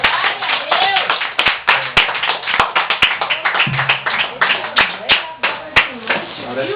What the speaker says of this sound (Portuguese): E as palmas que louvem o décimo nome de Jesus.